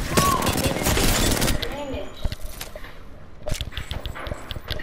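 Rapid video-game gunfire at a firing range: a dense, loud burst of overlapping shots, then scattered single shots and short volleys, with players talking throughout.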